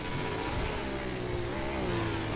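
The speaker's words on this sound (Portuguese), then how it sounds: "Ó, se liga o escapamento aí de novo" A Yamaha MT-03 motorcycle in GTA V revs its exhaust at night, a steady mid-pitched engine drone rising and falling in pitch as the throttle is worked, loud and continuous throughout.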